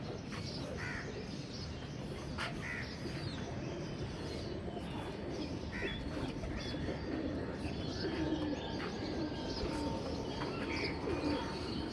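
Pigeons on a rooftop at the moment they are released, with soft cooing and chirping from several birds blending into a constant, fairly distant outdoor wash of bird noise and wind.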